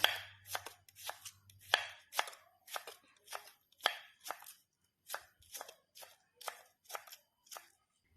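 Mushrooms are sliced with a knife on a board: about fifteen crisp, close cuts in a steady, unhurried rhythm, each one sharp and separate against an otherwise quiet background.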